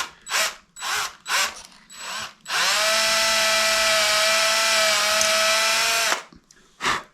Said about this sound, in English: And go all the way through with the long drill bit.